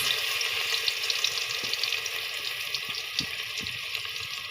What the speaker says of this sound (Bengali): রসুন তেলে দিলে একটা গ্রান আসে সুন্দর